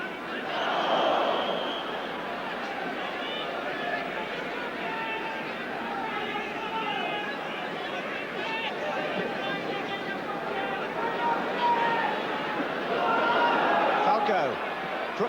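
Football stadium crowd at an Aston Villa versus Spurs match, a steady low murmur of chatter and babble throughout, with a commentator talking over it.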